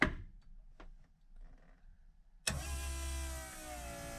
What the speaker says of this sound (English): We're gonna try to start the car. I have not started this car all winter long